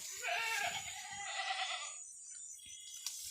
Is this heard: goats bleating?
yes